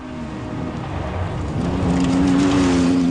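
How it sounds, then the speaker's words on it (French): A Ford MK2 historic rally car at the 2011 Maroc Historic Rally in Morocco gives a steady, close engine drone that climbs in pitch and loudness as it revs harder. "poursuivi lui-même par la Ford MK2 de Christian Kelders à la sonorité sans faille"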